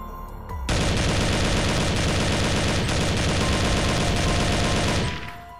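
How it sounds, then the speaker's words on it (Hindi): Cartoon soldiers firing guns at dragons, a loud, continuous burst of rapid machine-gun fire that starts abruptly, holds for several seconds and then cuts off. "सभी सोल्जर्स उन ड्रैगन्स पर फायर करने लगते हैं और उन्हें मारने की कोशिश करते हैं।"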